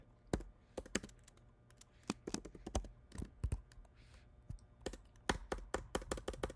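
Computer keyboard typing into a software search bar, a burst of sharp, close key clicks in an irregular rhythm with brief pauses, clear and alone without speech.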